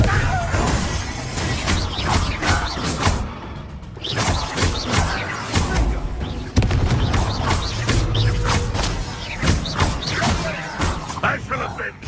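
Confringo fire spells exploding in the wizarding game Hogwarts Legacy, with repeated loud blasts and crashes in a chaotic fight, while voices shout throughout.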